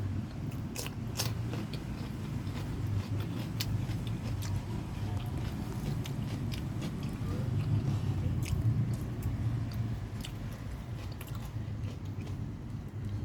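Someone eats jaew pla ra dip with krachiao flowers, chewing and biting close to the mic with soft crunches and wet mouth sounds over a steady low background hum.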